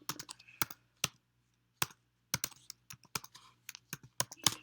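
Fingers type random text on a computer keyboard while editing a 3D model, giving sharp, irregular key clicks in quick bursts with short pauses, close and fairly quiet, with no talking.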